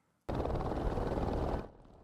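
Helicopter passing overhead above the Arizona desert, a loud, steady rotor and engine roar that cuts in abruptly, holds for over a second, then drops away, with no talk.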